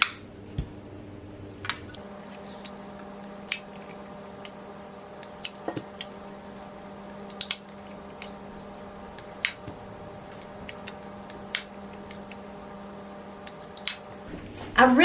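Boiled eggs sliced in an egg chopper, giving sharp, isolated clicks and snaps spaced irregularly over a quiet background, with a brief clatter at the end.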